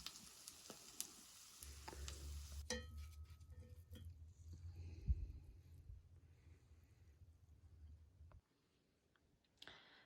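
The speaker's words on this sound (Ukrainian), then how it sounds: "Все в нас тут дуже гарно смажиться, пахне." Liver cutlets with vegetables fry in oil in a pan, producing a steady close sizzle with a few light clicks of utensils. The sizzling cuts off near the end and leaves near silence.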